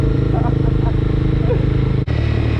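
A motorcycle carrying a passenger cruises along at an easy pace, its engine a close, steady, rumbling drone throughout, with faint voices over it and a brief dropout near the end.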